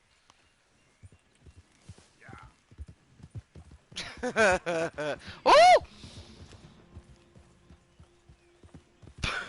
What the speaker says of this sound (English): That was a horse and carriage.